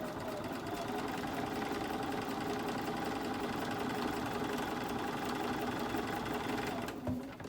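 A sewing machine stitching along the quilting lines of a quilted placemat tote bag, a loud, steady mechanical whir and rapid needle hum running without a break before cutting off near the end.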